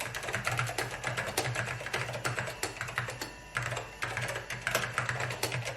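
Typing on the keyboard of an early Macintosh laptop, a steady stream of close, clicky keystrokes in uneven bursts with brief pauses, and no voices.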